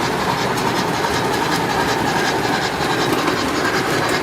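Menards O-gauge model train running on a home layout in a sloped-wall room, giving a steady, close whir with soft rail clatter and no voices.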